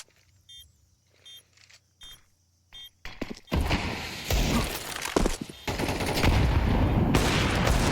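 A few quiet electronic beeps give way to gunshots and automatic bursts in a Counter-Strike match at the BLAST Austin Major, loud and dense over a crowd-like roar.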